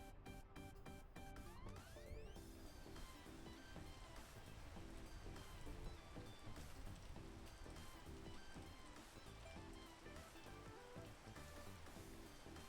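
Steady rain patters on a surface throughout in the game PEAK, with layered game music tones playing over it and no talking.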